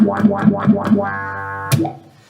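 Digitech Bass Synth Wah pedal on bass guitar: four quick plucked notes with a wah sweep, then one hard-struck note triggers a sustained synth-like tone, followed by a sharp attack that fades out.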